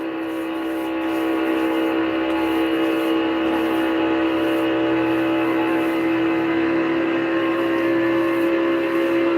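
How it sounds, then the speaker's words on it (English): NASCAR Cup Series race cars at speed during the Duels at Daytona, a steady, loud, sustained engine drone with a constant tone that barely changes throughout. "You can hear Ryan really powering to stay up there."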